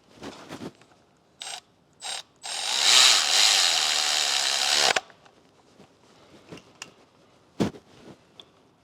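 A power tool runs a small 10 mm bolt into an EJ25 engine in a steady whirring burst of about two and a half seconds. Ratcheting clicks and clanks of metal come before and after it, close and loud.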